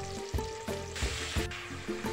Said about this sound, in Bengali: মাংসটাকেও পেঁয়াজটার সাথে একটু অল্প কিছুক্ষণের জন্য আমি ভেজে নেব।